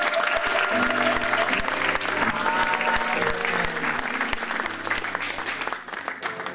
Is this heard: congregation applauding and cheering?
yes